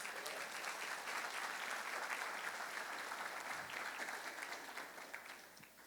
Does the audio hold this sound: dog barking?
no